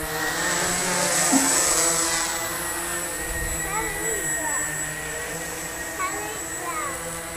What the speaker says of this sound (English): Right now, I've got it hovering, and I've got it in GPS mode.